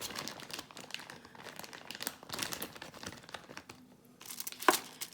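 A paper towel is crumpled and pressed onto wet raw chicken wings in a home kitchen, close, crinkly rustling in irregular bursts with short pauses between handfuls.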